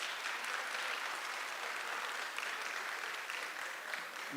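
An audience at a high school speaker event applauds steadily for several seconds, a dense, even patter of many hands clapping with no talk over it.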